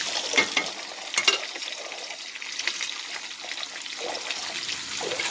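A large piece of ginger and a single onion sauté in a pan for chana dal mint chutney, giving a moderate, steady sizzle with scattered crackles and stirring scrapes and no voices.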